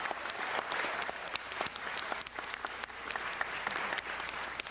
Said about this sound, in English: let's give Lisa Tucker a round of applause